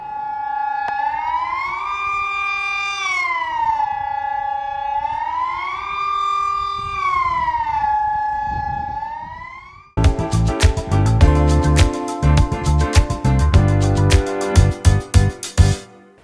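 War alarm siren in Switzerland, a loud rising and falling civil-defense wail cycling several times for about ten seconds, then cut off and followed by loud, dense music.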